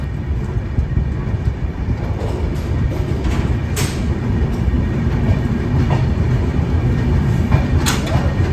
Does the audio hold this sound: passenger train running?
yes